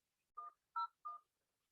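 Three short electronic telephone dialing tones in quick succession from a VoIP call, clean and close, with silence around them.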